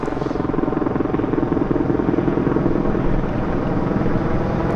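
Aircraft flying over Vancouver harbour, a steady loud rotor-like droning engine roar holding constant throughout with wind noise, no talking.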